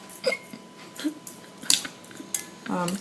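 Pepper and sugar marinade for meat being stirred in a bowl, giving a few scattered clinks and scrapes of utensil against dish, close and fairly quiet, with no talking.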